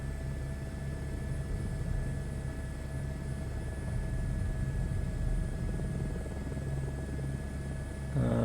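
A helicopter in Microsoft Flight Simulator 2024, on a scenic flight along the Leh to Manali highway, drones steadily throughout with a continuous rotor and engine hum, even and unbroken.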